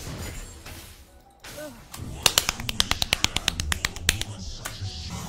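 A man claps rapidly for himself at a gaming setup, a close burst of about a dozen sharp, quick claps in fast rhythm over faint game sounds.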